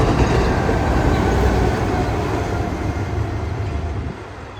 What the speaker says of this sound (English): I barely got to the west side of the bridge for the next northbound Pacific Surfliner